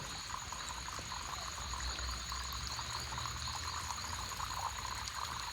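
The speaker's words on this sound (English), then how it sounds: "That's the water just coming off of the property next door." Rainwater runs off a neighboring property in rainy-season Panama, a steady, faint trickling and pouring flow heard continuously at a moderate distance with no voices.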